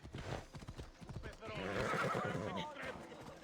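A horse in Assassin's Creed Odyssey clip-clops with quick hoof beats, then lets out a loud, drawn-out whinny near the middle, close and clear.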